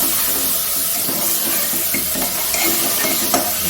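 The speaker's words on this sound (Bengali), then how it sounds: "দিয়ে ভালো করে মশলাটা মিক্স করব" Ground cumin and black pepper being stirred into a mutton ghugni masala in a hot pan, a steady sizzle of frying with soft scraping strokes of a spoon running throughout, close and continuous with no talking.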